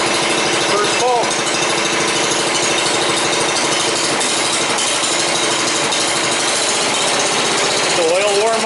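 A small engine turns over on a pull-cord start and settles into a loud, steady, close chugging run that holds throughout, with brief rising whines near the start and end.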